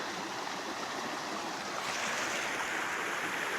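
A stream rushes over rocks and pours down a small waterfall at a gold panning spot, a steady broadband wash of water, close and continuous with no voices.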